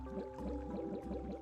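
Gentle liquid sloshing and bubbling from the Wii puzzle platformer Fluidity, where tilting the remote moves a body of water, heard as a steady soft wash with a faint repeating tonal pattern underneath.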